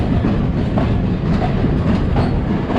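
A train in Sri Lanka, heard from inside, rumbles along the tracks with a rhythmic clickety-clack, loud and close, steady from start to finish.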